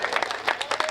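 Brief burst of audience clapping at a Hindi comic poetry gathering, a few loose claps blending into a short patter.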